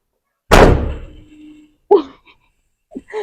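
A single loud door slam, caused by strong wind at a house in Bella Vista, Bulacan, booms out close by, then fades. A couple of short voiced sounds follow.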